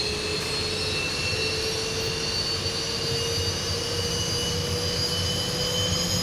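Boeing 737-800 jet engines spool up in a flight simulator game, a steady loud whine with sustained high tones over a low rumble, continuous and without talk.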